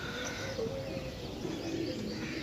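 Pigeons cooing at a seller's loft in Sarai Alamgir, soft low repeated coos over a constant bed of background noise, with no voices.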